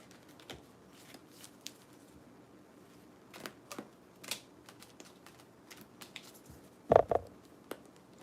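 A deck of tarot cards is shuffled by hand in short, uneven bursts of soft papery riffling and tapping, close and quiet, with a sharper clatter near the end.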